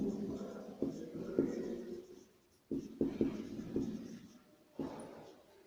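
Chalk or marker writing a word on a board in a primary science class, heard as close, repeated scraping strokes in short bursts with brief pauses between them, with no talking.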